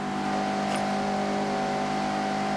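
A Mazda MX-5 engine drones at a steady pitch in the Forza Horizon 6 racing game, a sustained, loud car tone with a brief faint chirp partway through and no speech.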